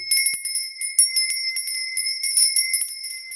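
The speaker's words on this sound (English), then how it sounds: "I have got a little lady bell here. I'm going to be ringing her to cleanse the air." Small hand bell rung to cleanse the air, bright high tinkling strikes repeated in a quick, uneven rhythm, close and clear against silence.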